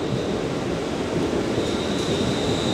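A British passenger train rushes past close by, a steady broadband roar of wheels and rushing air that holds loud through the whole moment, with a faint high whine above it and no voices.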